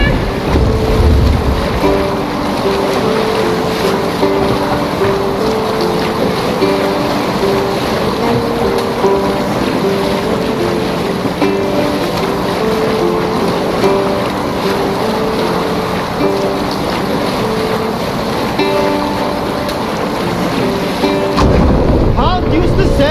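A sailboat under sail on the open sea rushes along with steady wind buffeting and water washing against the hull, loud and continuous, ending with a gust of microphone wind.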